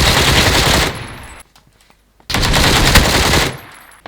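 Gunfire in PUBG comes as loud, close bursts of rapid automatic fire, one long run, a short near-silent gap, then a second sustained burst that trails off.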